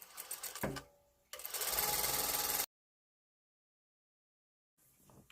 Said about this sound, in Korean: 저는 밑단 간격을 여기 4분의 3이라고 침판에 적혀져 있는 여기 딱 맞춰서 박을 겁니다